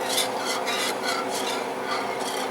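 Spatula scraping and stirring food in a pan while cooking Asian cuisine, a loud close rhythmic rasp repeating about five times, with no speech.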